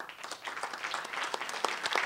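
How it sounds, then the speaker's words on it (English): Audience applause at a public event with the Illinois Attorney General, fairly faint and steady clapping from a room of listeners with no talk. "and a round of applause"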